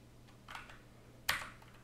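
A few keystrokes on a computer keyboard, two soft clicks close together and then a sharper tap, faint and close in a quiet room with a low hum.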